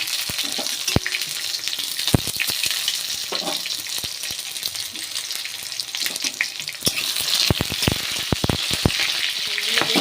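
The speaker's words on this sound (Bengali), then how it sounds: "এবার পাঁচফোড়ন দিয়ে দেবো।" Panch phoron spice mix crackling and sizzling in hot oil in a home kitchen pan, a steady fry punctuated by sharp pops and clicks, moderately loud and close with no talking.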